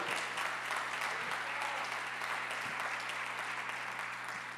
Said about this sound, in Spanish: dale un fuerte aplauso a Dios en su casa, amado